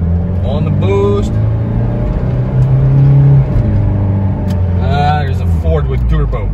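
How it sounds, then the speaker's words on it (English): A Toyota Land Cruiser LJ78 four-cylinder turbo diesel accelerating hard on boost, a loud close engine drone that rises in pitch through the gears, with people talking over it. "Four cylinder diesel in action. On the boost."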